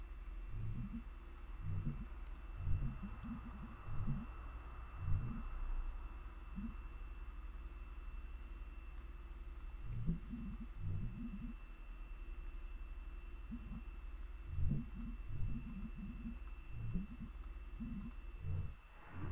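Keys clicking on a computer keyboard, clusters of light, rapid taps in irregular bursts separated by pauses, fairly faint over a steady background hum, with no voices.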